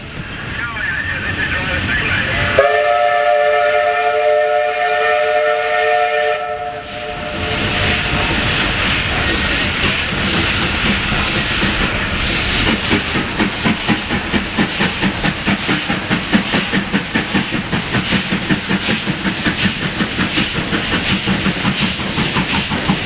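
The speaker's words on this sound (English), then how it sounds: "the sound of steam engines can still be heard climbing these hills on the rails of the Hotham Valley Tourist Railway" A steam locomotive on the Hotham Valley Tourist Railway gives a loud, sustained whistle, then settles into a rapid, rhythmic chuffing and hissing as it climbs a hill. The sound stays close and powerful throughout.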